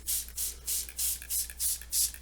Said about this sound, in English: So I'm gonna go ahead and start spraying it.